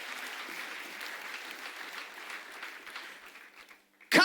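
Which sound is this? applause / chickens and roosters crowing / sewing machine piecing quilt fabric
applause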